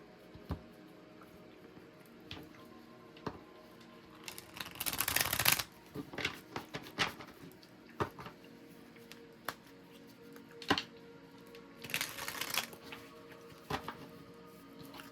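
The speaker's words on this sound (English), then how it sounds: "I just wanted to shuffle them before, so I don't forget, and then shuffle them" A deck of cards is shuffled in quick riffling bursts, two long shuffles with soft taps and handling sounds between them, close and fairly quiet with no talking.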